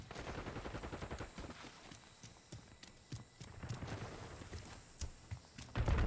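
Gunfire in a Call of Duty online match sounds as scattered rapid cracks and bursts, fairly faint and distant, with irregular shots spread across the stretch.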